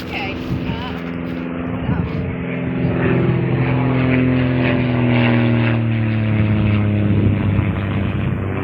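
A propeller airplane drones steadily overhead above a pine-forest walking path at Sans Souci County Park, its engine tone holding loud and even as it passes.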